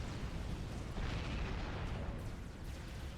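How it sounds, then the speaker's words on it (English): A nuclear explosion in a strategy video game, a dense, continuous roaring blast that fills the whole stretch at high volume, with no voices. "Another nuclear explosion to spice up the day."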